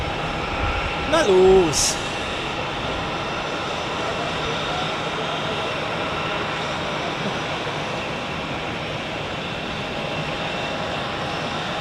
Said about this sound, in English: Meanwhile, the Embraer to Oslo is lining up on runway 16. Oh, now he's continuing taxiing.